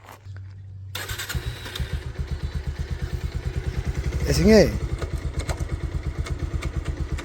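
An older man starts a motorcycle after a short quiet moment; the engine catches and settles into a loud, close, fast chugging idle with a brief rev swell midway, while people talk over it.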